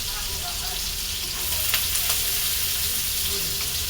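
Marinated tilli, Old Dhaka style, crisps in hot oil with a loud, continuous sizzle and an occasional faint clink, running steadily throughout.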